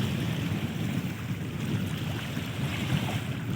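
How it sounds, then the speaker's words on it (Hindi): River water at night in Prayagraj gives a soft, continuous wash and rumble, steady and fairly close, with wind noise mixed in and no talk. "पानी की आवाज़ सुनो आप लोग।"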